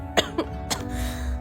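A girl gives two or three short, sharp coughs in quick succession, close and fairly loud over a low background hum.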